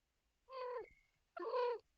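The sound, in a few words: cat making kitty noises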